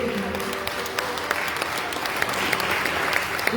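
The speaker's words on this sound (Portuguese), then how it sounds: "Pode dar um forte aplauso para ele." Church congregation giving warm applause during a sermon, a full, steady roar of clapping with scattered crisp individual claps and a murmur of voices underneath.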